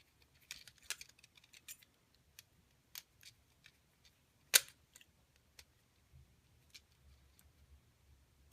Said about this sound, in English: Take your button board, place it down, and then go back with those T7 screws.